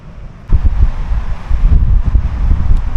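Strong gusts buffet the microphone on a windy surfing beach at Waihi Beach, low rumbling bursts that swell abruptly and stay loud and close, with no voices.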